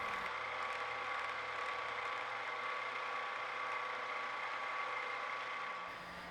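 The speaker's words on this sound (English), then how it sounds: "After cutting it to length, I'll mill a little flat for the set screw." A milling machine cuts a small flat into a clamp rod for a set screw, giving a steady, even mechanical whine with a constant tone and low motor hum that drops away near the end.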